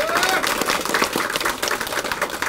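Audience applause welcoming the deputy speaker at a political party's New Year ceremony, a dense, steady wash of many hands clapping in a crowded hall, with faint voices mixed underneath.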